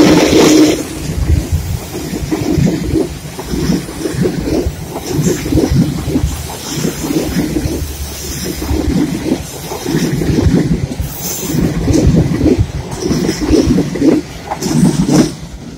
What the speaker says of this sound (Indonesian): Itulah kereta api kalau lewat di lengkungan. Ada suara khasnya.